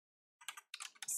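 Brief bursts of keystrokes on a computer keyboard, a few quick close clicks in two short clusters against a quiet background.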